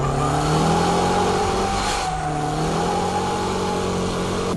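A drift car's engine revs hard and steady, dipping briefly mid-way as the throttle lifts then surging again in a fake drift, loud and close with no talk.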